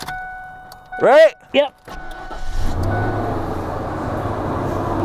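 Ford F150 pickup engine starting up again, a steady close idle rumble building after brief exchanges of talk at the start.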